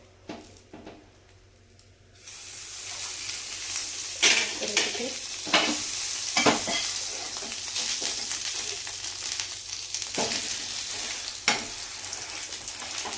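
Bread omelette frying in butter on a hot pan: after a quiet opening, a constant sizzle sets in, broken by frequent scraping strokes and soft squishes as it is turned and pressed.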